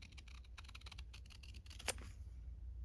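Scissors snip paper while junk journal embellishments are made, a rapid run of small, close clicks and cuts ending in one sharper snip, then quiet.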